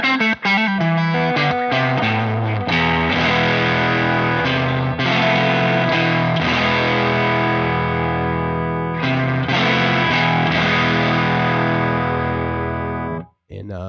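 A Stratocaster played through a Ceriatone Big J JP100 amp gives crunchy distorted chords and single notes, loud and close, ringing out with sustain before cutting off near the end.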